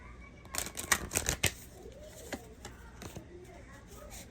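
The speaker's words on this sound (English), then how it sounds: "I'm going to pull an oracle card." Oracle cards are shuffled quietly at close range in several quick riffling bursts, the densest in the first second and a half, followed by sparser light taps and flicks.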